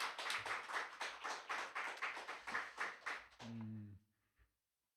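A church congregation gives a round of applause at a Korean testimony service, steady clapping from many hands for about three and a half seconds, then fading out as a brief low tone sounds.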